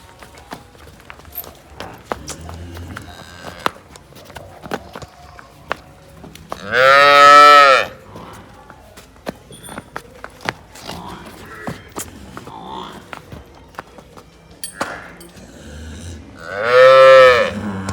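A pregnant jet-black buffalo at a farm livestock sale lets out two long, loud, close moos several seconds apart, with scattered footsteps and light clatter between them.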